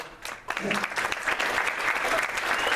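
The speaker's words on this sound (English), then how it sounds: "Can you join me in a round of applause" A lecture audience at Wake Forest University breaks into sustained applause, a dense steady wash of clapping that starts abruptly and continues at even loudness throughout.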